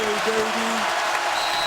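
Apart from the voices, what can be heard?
basketball crowd cheering and applauding after a three-point shot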